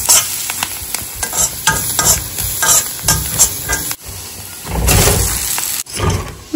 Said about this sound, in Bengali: ম্যাগিটাকে একটুখানি ভাজা ভাজা করে নিলাম পেঁয়াজ দিয়ে